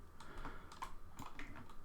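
Computer mouse clicks sound close and sharp, a handful of separate quick taps spread over a couple of seconds with no talk.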